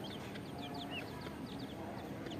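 Birds chirp and call in a village yard where free-range chickens and chicks are kept, with short repeated high calls over a faint, steady outdoor background.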